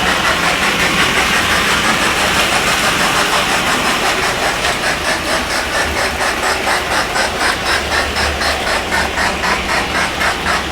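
A model railroad steam locomotive runs steadily and picks up speed, its mechanical hum and rhythmic chuffing growing more pronounced, loud and close throughout, with no talk.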